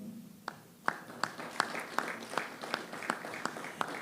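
Audience at a zone meeting clapping in a series of sharp, evenly spaced claps, fairly faint and distant, forming a light rhythmic applause.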